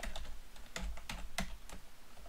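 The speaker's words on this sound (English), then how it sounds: "Typing in sticky notes." Keys clack on a computer keyboard while text is entered into Windows 10 Sticky Notes, a handful of distinct, fairly close keystrokes spaced irregularly over a low background hum, with no talking.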